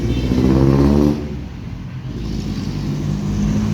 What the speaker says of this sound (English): it make you really appreciate my old truck.